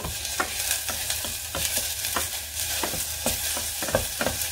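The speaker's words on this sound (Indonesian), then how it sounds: "Aku mau mulai goreng ini" Potatoes frying in a pan of hot oil, a steady close sizzle with regular scraping stirs every half second or so, no voices.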